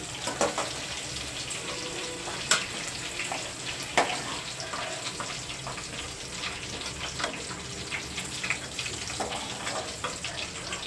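Ivy gourds fry in a pan with a steady, soft sizzle and scattered light crackles and clicks from stirring, moderately close and continuous, with no talking.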